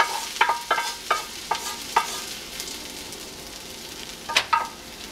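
A sizzling tempering is stirred into shahi haleem in a pot, with a series of sharp scraping and clinking stirs. The strokes come in an irregular rhythm, close and fairly crisp, over a faint frying hiss.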